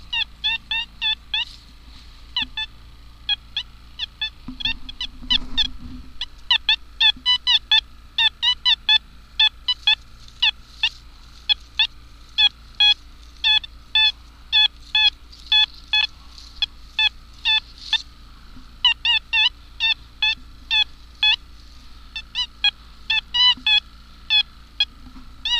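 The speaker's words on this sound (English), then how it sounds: "Okay, if you hear that, it's my best guess that that's going to be a pull tab" A metal detector sweeps over a buried target, probably a pull tab reading 87 on its ID, giving rapid, repeated warbling electronic beeps in short bursts that run almost continuously, close and clear with no talking.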